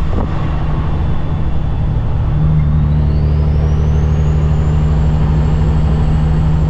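Hauling a load on the road toward the Canadian border, a semi truck gives a loud steady engine drone and road rumble heard from inside the cab, with a slowly rising whine and no talk.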